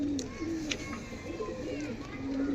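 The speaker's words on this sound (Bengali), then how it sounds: "দেখুন একটা রেগদার পেয়ার, জিরা রেগদার, লাল জিরা রেগদার দেখুন, এক পেয়ার পায়রা" A pair of red jira Rekhdar pigeons coo in soft, repeated low bursts, close by and fairly quiet, with a person's voice talking over them.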